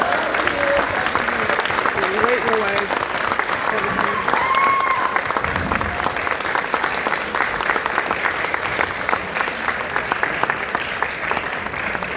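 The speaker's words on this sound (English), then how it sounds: "Please join me in applauding Mila and Kinsley Russ, our 2025" An audience at a chamber of commerce banquet applauds, steady sustained clapping from a full room that keeps going throughout, with voices talking over it.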